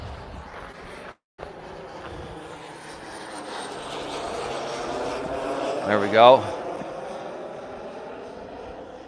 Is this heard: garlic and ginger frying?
no